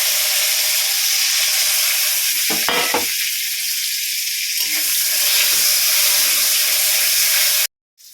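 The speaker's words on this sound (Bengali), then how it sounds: "এবারে আমি করে বেগুনটা ভেজে নিচ্ছি।" Eggplant pieces frying in hot oil in a pan, a loud continuous sizzle with a brief crackling stir midway, and the sound cutting off abruptly near the end.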